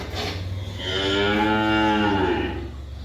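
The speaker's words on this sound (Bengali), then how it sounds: "বকনাটা হলস্টাইন ফ্রিজিয়ান।" A 10-month-old Holstein Friesian heifer calf on a dairy farm lets out one long, loud, close moo of about two seconds, with low farmyard background noise and no talking.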